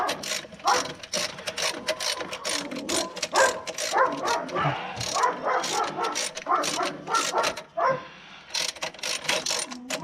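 A dog barks repeatedly in quick, sharp bursts at close range, with a steady mechanical hum running underneath.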